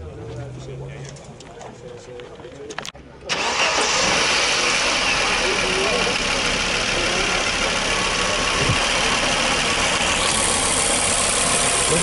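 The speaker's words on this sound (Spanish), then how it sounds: "No vibra absolutamente nada este motor." A 1984 Audi 200 2.2 Turbo five-cylinder luxury sedan starts with a brief crank, then settles into a steady, loud, even idle that continues alone, with faint birds audible before the start.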